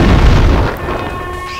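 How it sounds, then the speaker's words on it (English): A heavy explosion booms in The Thing video game: a loud, close blast with deep rumble that decays into crackling debris and a lingering roar. "Explosions everywhere."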